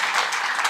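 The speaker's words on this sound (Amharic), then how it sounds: "ሞቅ ያለ ጭብጨባ" Warm applause from a church audience at a Christmas celebration, a brief steady wash of many hands clapping, fairly close and even, with no voices over it.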